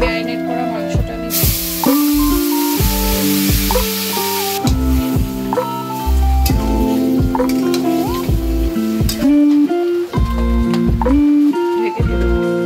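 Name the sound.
marinated goat meat frying with whole cumin and garam masala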